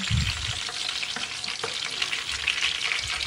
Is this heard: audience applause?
no